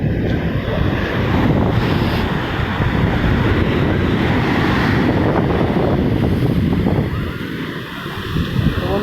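Sea waves wash onto Coffee Beach on Korea's East Sea coast in a continuous loud roar, heavily mixed with close wind buffeting on the microphone and no clear speech.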